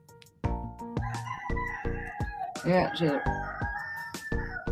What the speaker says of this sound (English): There's some roosters crowing.